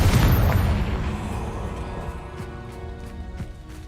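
A Confringo blasting spell in Hogwarts Legacy detonates with a deep, heavy boom at the start, its rumble slowly fading over several seconds while faint crackling pops ring out afterward.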